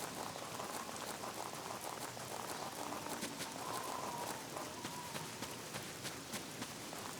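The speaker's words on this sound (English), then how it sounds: "Something nice just about hearing the wind and the rain." Wind and rain in Luigi's Mansion 2 HD: a steady, soft hiss of rainfall with dense patter and a faint whistling gust drifting through, continuous with no talk.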